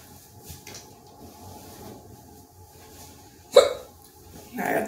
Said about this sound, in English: I got the hiccups, y'all.